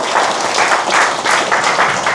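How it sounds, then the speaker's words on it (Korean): Hearty applause from a forum audience after a lecture on Korean nuclear technology, with thick clapping that swells in several rhythmic surges and stays loud and close throughout. "다시 한번 큰 박수"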